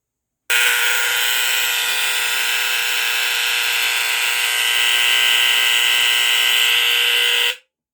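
A Pyrotector Smoke Sentinel 255S smoke detector alarm sounds one loud, steady, shrill electronic tone that holds for about seven seconds and then cuts off sharply, with no talking.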